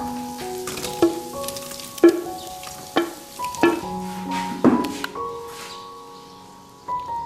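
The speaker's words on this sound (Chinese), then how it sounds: "咱要切好的笋干也放进去。 炒炒都是香。" Chopped dried bamboo shoots stir-fried in a wok with sizzling oil, a metal spatula knocking the pan about once a second over a steady frying hiss.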